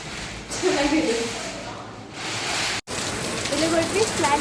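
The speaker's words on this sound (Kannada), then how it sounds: "ಫುಲ್ ಮಳೆ ಬರ್ತಿದೆ, ನೀವು ನೋಡ್ತಿದ್ದೀರಾ" Heavy monsoon rain in Munnar, a steady broadband hiss of rainfall close by, with voices talking over it throughout and a brief dropout near the end.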